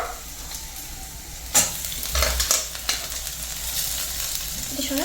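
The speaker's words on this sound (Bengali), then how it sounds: "এক সেকেন্ড জাস্ট নাড়িয়ে নেবো তারপরে এই যে পুরো মাছটা দিয়ে দেবো" A whole fish fries and sizzles in a pan as it is stirred, with a steady crackling hiss throughout and a few louder scraping clatters from the utensil.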